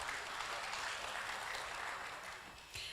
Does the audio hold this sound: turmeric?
no